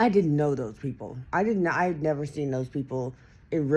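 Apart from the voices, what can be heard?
None of the usual background noises is heard.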